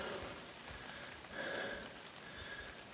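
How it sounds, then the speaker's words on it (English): Rain falls outdoors near a Jeep as a soft, steady hiss of drops on surfaces, faint and continuous without voices. "It's starting to rain anyway"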